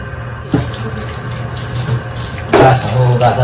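Tap water runs steadily into a sink while fish is rinsed for cooking, a continuous close splashing with a louder surge near the end as the stream hits the fish and basin.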